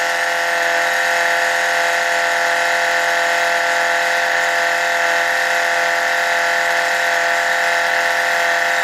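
A G0704 benchtop milling machine face mills metal with an insert face mill, making a loud, steady whine and grinding hum at constant speed with no pauses.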